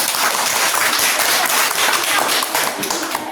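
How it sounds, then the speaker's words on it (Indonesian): A classroom of students applauds a group after its presentation, loud dense clapping from many hands that holds steady for about three seconds. "Oke, tepuk tangan untuk kelompok 2."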